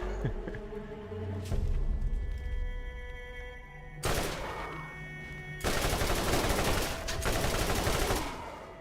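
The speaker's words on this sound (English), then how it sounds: "the machine gun I'm using is, according to the item card, a purple S&S" A purple S&S machine gun fires in Borderlands in loud, sustained bursts, with dense rapid shots broken by short pauses, layered over game effects and no talk.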